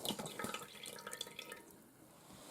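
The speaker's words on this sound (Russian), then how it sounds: "Каждый кусочек, ребята, ополаскиваем в воде" Pieces of red fish rinsed one by one in cold water, soft close splashes and drips with light handling sounds, fairly quiet and brief.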